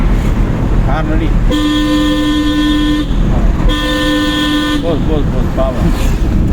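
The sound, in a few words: car horn honking during driving class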